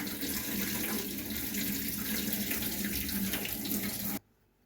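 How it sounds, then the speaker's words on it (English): Cold tap water pours steadily into a kitchen sink over drained pasta, a constant close hiss and splash that cuts off abruptly near the end. "Now I'm going to wash my pasta with cold water."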